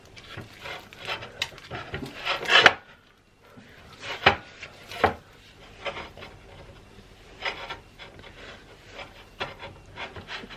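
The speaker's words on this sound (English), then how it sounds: "This hand's fine, so I'm just going to mix it without this glove on." White loaf bread dough being mixed by hand, giving soft, irregular wet squelching and rubbing sounds close up, with a few sharper slaps or knocks against the bowl, and no voices.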